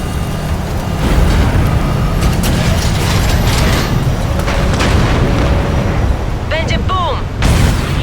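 A tower explodes in the shooter game Call of Duty: Infinite Warfare, a loud sustained rumbling boom layered with mechanical game noise and a few whooshing effects, with voices speaking over part of it.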